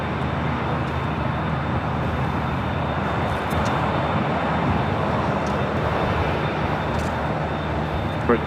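A plane at LAX on runway 25 left, a steady loud roar of jet engines that holds evenly throughout, like an aircraft rolling out on landing.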